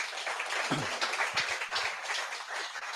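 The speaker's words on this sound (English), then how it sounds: "Round of applause there." A talk-event audience applauds a guest with dense, sustained clapping from a crowd, fairly even in level, with a brief low voice showing through.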